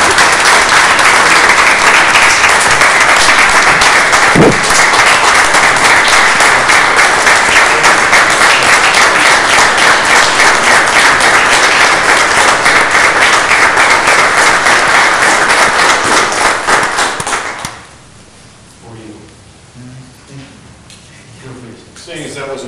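Sustained applause from an audience at a township trustees meeting in Anderson Township, loud and dense clapping for about 17 seconds before cutting off abruptly, leaving quiet room sound with faint talk.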